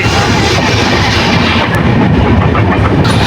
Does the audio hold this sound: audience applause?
no